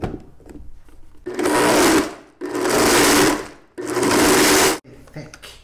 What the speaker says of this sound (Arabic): حتى لو عندك خلاط قوي بيعلق الخلاط معك يعني بيطلع صوت انه يدور بوش